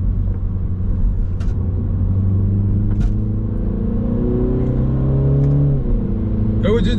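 A 2022 MINI Cooper S engine rumbles and revs steadily through a sport exhaust with a deep note, rising in pitch near the end, with a voice talking over it.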